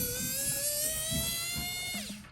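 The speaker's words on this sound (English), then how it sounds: "We're gonna unscrew that right there." A small electric screwdriver backs out tiny size 0 screws from a G-Shock GW9500 Mudman watch case, giving a close, thin, high whine that rises steadily in pitch before cutting off abruptly.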